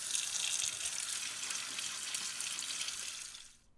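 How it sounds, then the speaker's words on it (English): Rose hips rinsed under running tap water in a colander, a steady, close hiss of spray and splashing that holds for several seconds, then cuts off abruptly as the water stops. "Then I give them a nice rinse in the colander."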